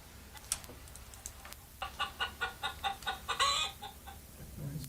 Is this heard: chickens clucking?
yes